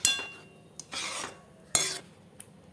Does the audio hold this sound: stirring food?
yes